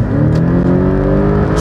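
Porsche 718 Boxster GTS with its mid-mounted boxer engine revs loud and close, a steady rising drone with no voices over it.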